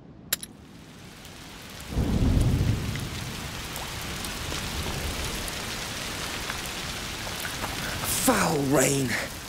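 Steady heavy rain and a rolling thunder rumble in the video game A Plague Tale: Requiem, with rain hissing throughout and a voice speaking briefly near the end.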